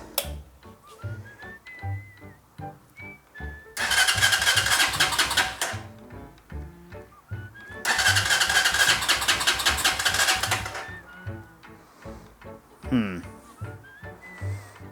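Honda Hawk 250 motorcycle, a rebuilt crashed bike, cranking in two long bursts of starter whir and engine turnover, with someone talking quietly in between.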